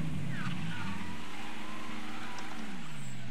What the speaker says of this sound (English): this car sounds like it's doing a lot of work, but not actually getting anywhere